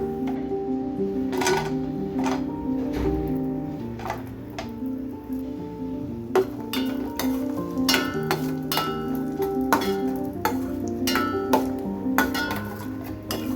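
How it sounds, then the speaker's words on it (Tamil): Chopped almonds and cashews roast in ghee in a pan for sugar-free carrot halwa, with a spoon ticking and clinking repeatedly against the pan over a steady background hum, close and moderately loud. "இப்போ பேனில் நெய்யை ஊற்றி கட் பண்ணி வச்சுருக்க பாதாமும் முந்திரியும் சேர்த்து அந்த நெய்யில் நல்லா வறுத்து எடுத்துக்கலாம்"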